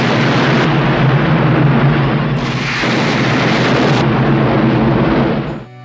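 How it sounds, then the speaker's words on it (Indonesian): A dynamite explosion in a film battle scene against a gang, a loud sustained roaring blast with rumbling debris that rolls on for several seconds before cutting off. "memicu ledakan besar yang memunahkan sebagian besar geng tersebut"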